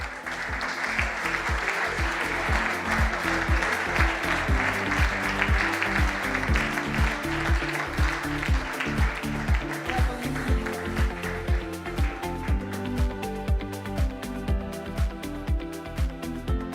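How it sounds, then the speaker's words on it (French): Sustained audience applause at the Winpharma Rencontres de l'innovation 2024 awards ceremony during a trophy presentation, a dense steady clapping wash over a beating music track, lasting the whole stretch without letting up. "On les applaudit encore, merci"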